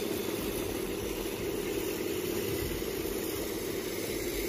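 Two 250,000-pound graders with high-powered engines tow a coiled pipe unit, giving a steady, loud, droning engine rumble that holds unbroken throughout with no talk.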